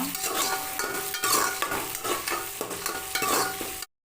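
Small onions sauté in a pan for a tamarind curry with turkey berries, a close, busy sizzle broken by repeated rhythmic stirring and scraping of a spoon against the pan, ending abruptly.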